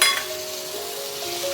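Chopped tomato dropped into spices frying in a pan for a Bengali fish-head murighonto gives a steady close sizzle, with a brief louder burst at the start and faint clinks over the hiss.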